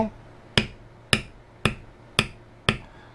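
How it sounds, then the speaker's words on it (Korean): A hammer strikes a beveler stamping tool on leather during carving, five sharp, evenly spaced taps about half a second apart, close and crisp with quick decay and no talk. "선에 맞춰가지고 선을 보면서 망치로"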